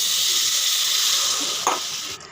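Boiled raw banana water is poured into a spice paste frying in a pan, giving a steady loud sizzle with a brief splash and stir near the end, no voices.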